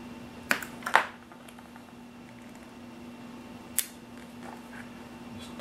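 Scissors snip the plastic body shell of a Tamiya 1/10 Ford Bronco RC car: a few sharp, close cuts near the start and one more later, over a faint steady hum.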